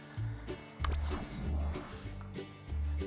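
A Power-Pole Talon shallow-water anchor on a crappie fishing boat drives down into the water at Grand Lake St. Marys, a loud mechanical whir and splashing churn with pulsing low rumbles close by.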